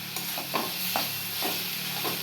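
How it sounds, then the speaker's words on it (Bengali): Red amaranth and snake gourd curry with green chilies being stirred in a pan, a soft ongoing sizzle broken by several scraping spatula strokes at an uneven rhythm, close and fairly quiet. "এবার একটু নাড়িয়ে নাড়িয়ে নামিয়ে নেব"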